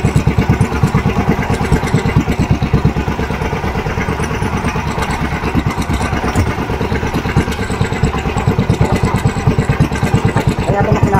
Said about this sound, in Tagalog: Kaya ito makina.